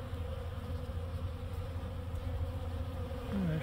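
A dense swarm of Carnica and Buckfast honeybees hums continuously inside a garden compost bin, a steady close buzz with individual bees droning past, no talking.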